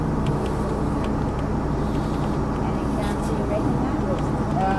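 Car traffic on a Toronto city street in February, with a steady broadband engine and tire rumble that carries continuously and fairly loud beneath people talking.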